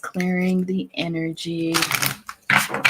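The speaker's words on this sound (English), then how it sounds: "I'm just shuffling the cards" Bursts of rapid papery riffling as tarot cards are shuffled, mixed in with someone speaking close to the microphone.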